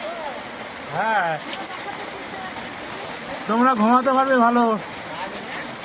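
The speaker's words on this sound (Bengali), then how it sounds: "সেই মুষলধারে বৃষ্টি হচ্ছে" Heavy pouring rain in Payradanga makes a steady, dense hiss throughout, with people talking over it in a couple of short stretches.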